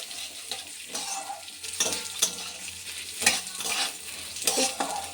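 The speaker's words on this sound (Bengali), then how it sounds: "এবার এতে দিয়ে দেবো মুগের ডাল, এই যে। এটা একটু নেড়ে চেড়ে নেবো যাতে" Moong dal being stirred and fried in a pan, with a steady low sizzle broken by repeated scraping strokes of the spoon about once a second, close and alone with no voices.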